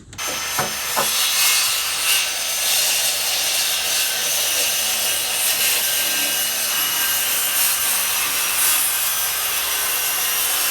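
A handsaw cuts wood during an off-grid shop build, producing a steady raspy sawing that runs loud and close for about ten seconds with no talking.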